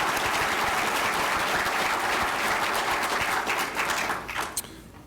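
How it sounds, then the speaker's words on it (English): Ceremony audience applauding at a Purple Heart Hall of Honor induction at the Madison VA, a dense sustained wash of clapping that holds steady, then thins and fades out near the end. "So a round of applause for all that you do."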